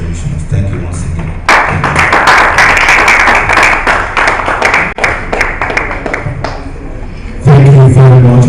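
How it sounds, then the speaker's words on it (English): Round of applause from a conference audience at a mortgage banking association annual event, sustained dense clapping filling the room for several seconds after a payments presenter, with an announcer's voice over the start and end. "Please give him the noise and the round of applause, ladies and gentlemen"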